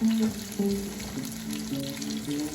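Pumpkin slices frying in oil as they are turned, a steady close sizzle with soft scraping and clinks from the turning, with a faint tonal hum underneath.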